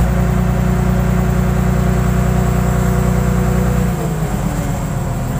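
Old car engine running steadily at idle, loud and close, then the revs shift and the note roughens near the end as the throttle is applied; a loose fan belt is noted on the engine.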